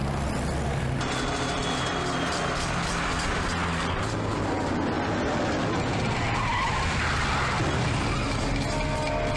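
A car skids and squeals its tyres during a chase, a loud continuous screech and engine roar filling the whole stretch with no pause.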